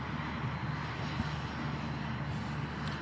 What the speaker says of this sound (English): Aircraft turning onto final approach now.